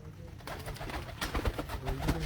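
Pigeons cooing on a rooftop loft where birds are kept and flown, soft repeated coos close by over a low background murmur.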